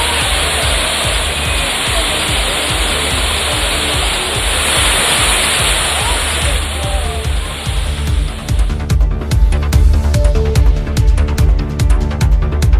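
Courtallam waterfalls in Tamil Nadu roaring in a loud, dense, continuous wash of falling water, steady and close for the whole stretch, with the texture turning choppier toward the end as crackling splashes come through.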